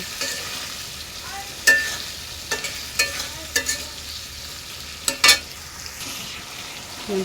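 Fish being stir-fried in a pan gives a low, steady sizzle, broken by a handful of sharp scraping and clinking strokes of a spatula against the pan at irregular intervals.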